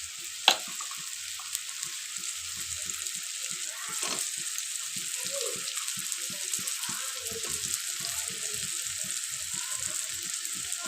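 Chopped potatoes fry in hot oil in a pan with a steady, close sizzle and dense crackling pops throughout, opening with a sharp knock of a utensil and no talk over it.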